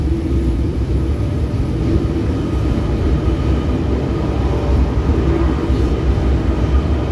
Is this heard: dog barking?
no